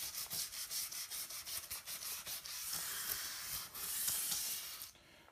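A McCulloch MC1275 heavy-duty steam cleaner hisses steam onto a grimy tile grout joint while a brush scrubs along it, giving a steady close broadband hiss with repeated rubbing strokes before it cuts off near the end.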